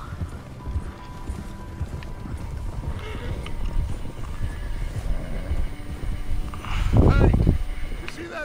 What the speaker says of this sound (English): Come on, horsey, let's go.